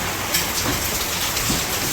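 Heavy rain pours down in a village, a dense, even roar of falling water with no voices.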